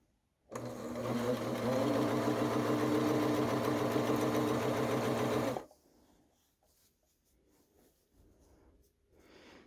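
A sewing machine stitching elastic onto a skirt runs in one loud, steady whirring burst for about five seconds, then stops, leaving faint rustling of fabric.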